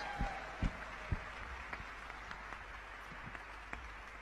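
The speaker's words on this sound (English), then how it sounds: "Warm welcome to Miss Ivanka Trump. With a warm round of applause, please." An audience at the Global Entrepreneurship Summit 2017 applauds faintly and at a distance, a soft wash of clapping with a few sharper nearby claps near the start.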